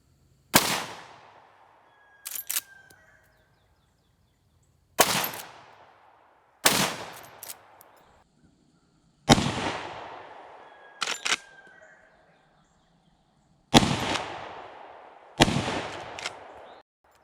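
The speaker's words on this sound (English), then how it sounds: "So let's see how well this thing shoots." A Marlin lever-action rifle fires six loud single shots, each a sharp crack with a ringing tail, followed by the metallic clack of the lever cycling between rounds, spaced a few seconds apart outdoors.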